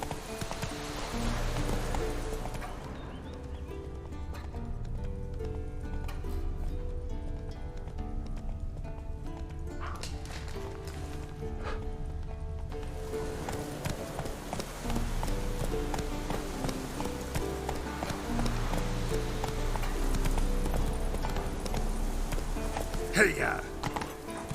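Hoofbeats of a horse galloping in The Witcher 3: Wild Hunt, a steady clip-clop rhythm that runs through the whole stretch over a bed of game music and ambience, with a voice calling out briefly.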